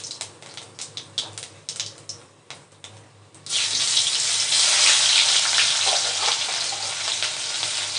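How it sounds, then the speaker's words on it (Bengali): Cumin seeds drop into hot oil after a few clicks and taps, then a loud steady sizzle fills the rest, close and continuous. "এখন দিয়ে দিচ্ছি সামান্য একটু জিরে"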